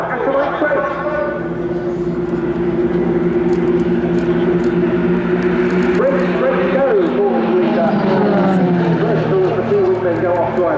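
Extra 330LX aerobatic aircraft of the Royal Jordanian Falcons displaying at the RIAT 2025 airshow, a steady loud propeller engine drone with a pitch sweep near the end, under continuous commentary.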